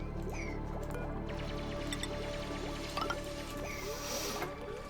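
Water dripping and trickling in the Oxygen Not Included colony game, a steady wet flow with scattered light drips and small splashes throughout, fairly close and with no voices.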